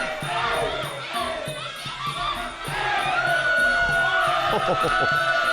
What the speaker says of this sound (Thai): บรรยากาศกองเชียร์ ยังก็ดูคอนเสิร์ตเลยครับ